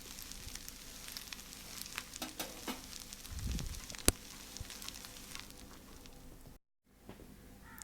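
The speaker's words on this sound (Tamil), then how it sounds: "இந்த ரைஸை நல்லா மிக்ஸ் பண்ணி விட்டுக்குங்க" Chicken fried rice being stirred and frying in a pan, a soft steady sizzle with occasional scraping and clinks of the spatula, faint and close, no talk.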